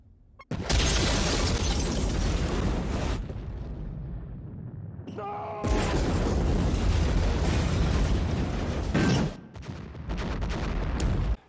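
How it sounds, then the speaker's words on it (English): Massive bomb detonation in the 1997 science-fiction film Event Horizon, destroying the ship Lewis and Clark: a loud, sustained roaring blast that cuts out briefly, then returns as another long rumbling wave with a swelling tonal whine between bursts. "The bomb detonates, destroying the Lewis and Clark and killing Smitty."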